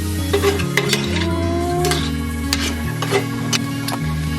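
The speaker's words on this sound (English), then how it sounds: "Stir it up so all the seasonings can mix with the shrimp." Seasoned shrimp stirred in a hot pan for tacos, a utensil scraping and clinking against the metal over a steady sizzle, close and continuous, with a low hum behind.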